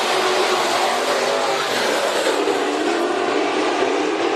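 Sport Mod race cars at Bakersfield Speedway roar off together at the start of a heat race, a dense, loud, sustained wash of engine noise that holds steady throughout.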